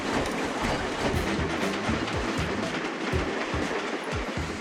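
Train cars in the railway game Train Crisis rumble along with a steady clickety-clack of wheels over rail joints, loud and continuous with no voices.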